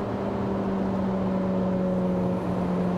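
A 2023 Chevrolet Corvette Z06 Convertible 1LZ cruises at about 50 mph, its engine a steady, fairly quiet drone under road and wind noise, with no talking.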